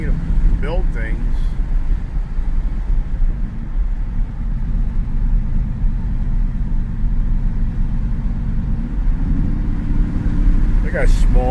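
A small 1980s Toyota pickup truck drives along with a steady low engine drone and road rumble, loud and close throughout, with a brief faint voice near the start and end.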